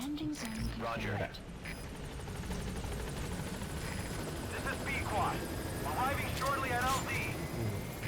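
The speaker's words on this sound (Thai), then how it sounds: "เฮลิคอปเตอร์ นี่ไง มารับหน่อยครับ" Helicopter arriving in Metal Gear Solid V, a steady whirring rotor drone that fills the whole stretch under nearly continuous talk from a man.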